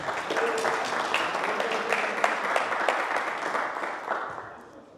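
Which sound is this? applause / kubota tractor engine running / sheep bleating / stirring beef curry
applause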